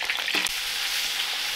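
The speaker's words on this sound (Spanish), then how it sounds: "Ahora voy a poner a asar estos chiles" Chiles roasting on a hot griddle give off a steady, close sizzle and crackle, with a brief scraping stir near the start as they are turned.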